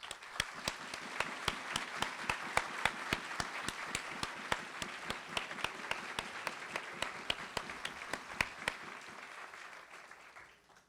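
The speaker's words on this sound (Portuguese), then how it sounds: "Para ele, uma salva de palmas." Audience applause at an inauguration ceremony for a new board of directors, a steady wash of many hands clapping with a few sharp louder claps standing out, fading toward the end.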